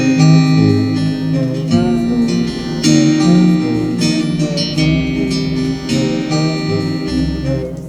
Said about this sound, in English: In the chorus, I bring back in the acoustic